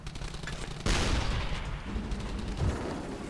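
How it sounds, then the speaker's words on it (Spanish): Enemy gunfire in Brothers in Arms: Hell's Highway, a World War II shooter: a sudden loud burst of shots erupts after a quieter moment, followed by rolling, echoing fire and rumble that continues in the background. "ya me están disparando"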